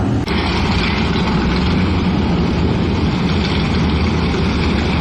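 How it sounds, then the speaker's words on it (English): A 1973 Mopar engine with multiple carburetors idles at a show, giving a loud, steady low rumble that holds unbroken throughout with no voices over it. "I'm hearing some rumble. You know what it sounds like? Sounds like multiple carburation to me."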